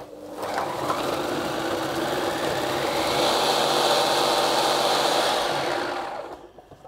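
A kitchen machine whirs steadily as melted butter is mixed in for a no-bake lime cheesecake, a loud, even motor hum with a rattly texture that runs for several seconds and then stops.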